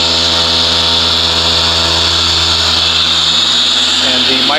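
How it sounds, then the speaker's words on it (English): Porter Cable polisher with a microfiber cutting pad buffing the hood of a black 2014 GMC Sierra truck, a loud continuous motor whine and whir running steadily throughout. "And we're doing another test right here with the Porter cable"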